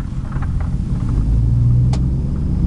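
A pickup truck with its muffler removed tries a burnout, its exhaust a loud, close, raw rumble that rises and holds as the engine revs, with one sharp click partway through.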